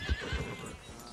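In the video game Red Dead Redemption 2, a horse gives a fairly faint whinny over two heavy hoof thuds in a morning forest, followed by a quieter rustling tail.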